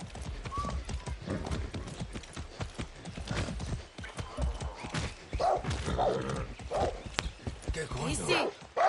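Horse hooves clip-clopping in the video game Far Cry 6, a steady rhythmic gait with a brief whinny, heard close under someone talking and game music.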